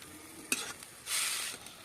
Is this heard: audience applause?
no